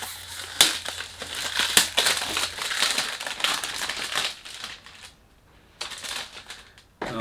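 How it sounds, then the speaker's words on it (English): Crinkling and crushing of packaging while an Armaf Bucephalus XI perfume box is unboxed, with dense close rustles and crackles for several seconds, a brief near-silent pause, then more rustling at the end. "Let's do an unboxing."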